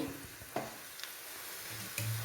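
A tempering of mustard seeds, fenugreek, cumin and shallots with curry leaves sizzles quietly in oil, a faint steady hiss broken by a few sharp ticks and light pops.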